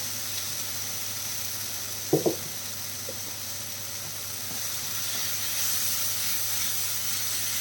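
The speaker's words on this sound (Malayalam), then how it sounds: "രണ്ട് തക്കാളി ചോപ്പ് ചെയ്തിട്ടുള്ള കൂടെ ചേർത്ത് കൊടുക്കാം ഇതും ചേർത്തിട്ട് നല്ല രീതിയിൽ ഒന്ന് വഴറ്റിയേക്കാം" Chopped tomatoes sauté in a mutton masala, a steady close sizzle and hiss from the pan, broken by a couple of brief knocks from stirring partway through.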